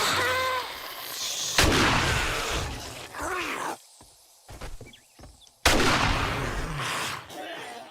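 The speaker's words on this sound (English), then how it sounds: "That shotgun is really good for that. You just literally blast them." Shotgun blasts ring out while fighting zombies during a Blood Moon horde in the video game 7 Days to Die, two heavy booming shots with ringing decay, separated by quieter shuffling and small sounds.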